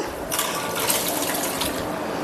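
Idli rice being washed by hand in water, with a steady, close splashing and sloshing that runs continuously for a couple of seconds.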